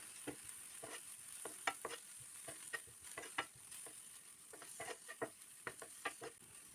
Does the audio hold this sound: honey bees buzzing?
no